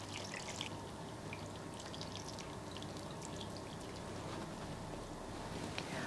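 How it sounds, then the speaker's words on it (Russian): Milk poured through a small sieve over a potato gratin, a faint continuous trickling and splashing of liquid with a few tiny drips, steady throughout. "Последний раз слегка солим и заливаем нашим молоком, процеживая через ситечко."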